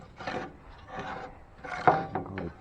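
A handsaw makes an angled cut through a piece of wood, producing three or four short, rasping strokes, close and moderately quiet, with brief pauses between them.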